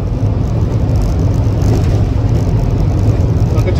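A VW Type 2 Westfalia camper van drives along, its engine and road rumble a steady, loud, low drone throughout with no one talking.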